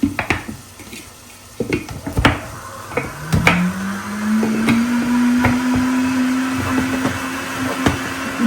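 A kitchen blender runs its self-cleaning cycle with water, a steady, loud whirring motor hum that rises in pitch and holds. Clattering knocks come before it and continue under it, with no voices.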